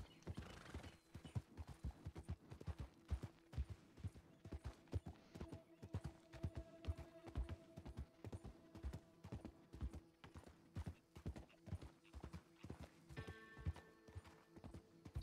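A horse gallops in Red Dead Redemption 2, its hooves beating a fast, steady rhythm for the whole stretch, with a brief whinny and creaking tack near the end; quiet overall.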